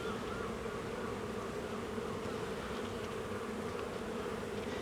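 Honeybees fill an opened hive with a dense, continuous buzzing drone during an inspection, steady and close throughout, with no talking.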